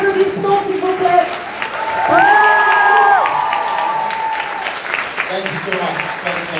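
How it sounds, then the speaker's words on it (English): A panel audience erupts in applause mixed with cheering and shouted whoops, including sustained high-pitched yells. Voices call out over the loud, continuous clapping. "Un tonnerre d'applaudissements, s'il vous plaît."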